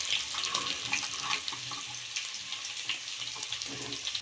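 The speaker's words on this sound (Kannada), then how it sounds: "ಈಗ ಸಾಸಿವೆ ಹಾಕಿದ ಮೇಲೆ ಬೆಳ್ಳುಳ್ಳಿ ಹಾಕ್ತಾ ಇದ್ದೀವಿ. ಕ್ಲೀನಾಗಿ ಫ್ರೈ ಮಾಡ್ಕೋಬೇಕು" Garlic sizzling in hot oil after mustard seeds for a Malnad-style palya, a steady close hiss with small pops and crackles, with no voices.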